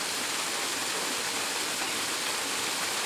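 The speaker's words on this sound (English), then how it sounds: "As the water hits that rock and starts to splash" Waterfall water pouring and splashing onto rock, a dense, steady rushing hiss with no breaks, moderately loud and close.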